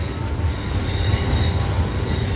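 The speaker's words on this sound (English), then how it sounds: "This is a class 91 locomotive." A British Rail Class 91 electric locomotive at a depot, its steady loud low rumble and rolling rail noise continuous throughout with a faint high whine above.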